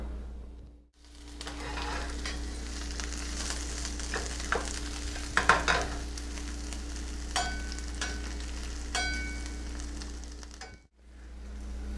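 Mushrooms sautéing in a hot pan on raised heat give a steady, close sizzle with scattered scrapes and clinks of stirring, the frying running alone without talk for most of the stretch before dropping out near the end.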